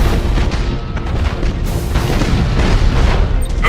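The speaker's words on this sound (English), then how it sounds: "We should keep our distance from the enemy ship, sir. It will soon explode." An enemy starship blows up in the space battle game Battlefleet Gothic Armada, a loud, sustained rumbling boom that fills the whole moment with heavy, roaring blast noise.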